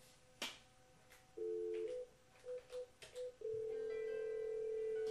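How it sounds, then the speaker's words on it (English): Cisco CUCM IP phone ringing after an extension is dialed: a brief tick, then short steady electronic tones in a few repeated bursts, ending in a sustained loud ring tone, close and clear with no talk. "So that phone's ringing right now."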